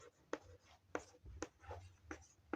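Pen strokes from writing out a maths solution, a Class 10 mensuration problem, with about five short distinct scratches spaced roughly half a second apart, close and quiet with no talk.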